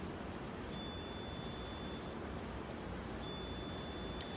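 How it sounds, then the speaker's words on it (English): Two short high electronic alarm beeps, about two and a half seconds apart, sound out on a rainy New York street over a steady wash of traffic and rain noise. "It's some kind of alarm. Only in New York. Some random beeping."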